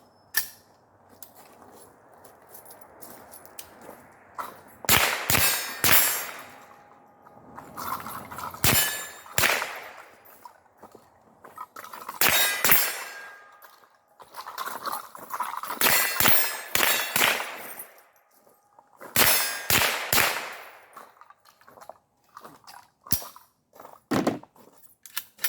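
Rifle live fire at steel targets, several bursts of sharp reports each followed by ringing metallic clangs from struck steel, spaced groups across the stretch, with no talk.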